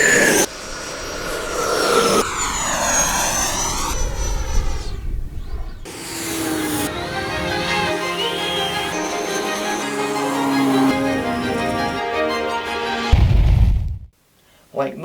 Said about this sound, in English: Like most 90mm EDFs, the Super Scorpion V2 is a very large, very fast jet.